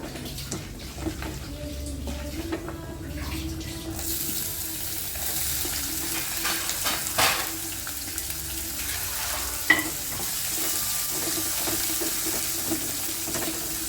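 Green chili, ginger and onion sizzle steadily in a hot pan with cumin for a rava breakfast, with the frying swelling louder partway through, occasional stirring scrapes, and a faint running-water wash in the background.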